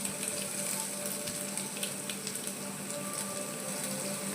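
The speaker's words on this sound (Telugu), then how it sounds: "కొంచెం పచ్చివాసన పోయేదాకా ఆనియన్స్ అనేది ఫ్రై చేసుకోవాలి" Onions fry in hot oil in a pan with mustard seeds and cumin, giving a continuous dense sizzle with faint crackles spread evenly across the moment, fairly quiet and close, with no talk.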